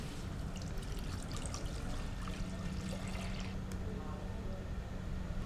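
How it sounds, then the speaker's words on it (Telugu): Thick whole milk, about a litre, poured into a pot for phool makhana kheer, a steady continuous trickle and splash running for several seconds over a low background hum, close and fairly quiet. "సో పాలు పోసేసుకున్నాం"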